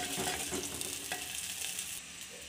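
Mustard seeds, fenugreek and curry leaves sizzling in hot oil for a chilli pachadi, a dense continuous crackle and spatter close up, with a brief stir-like scrape partway through.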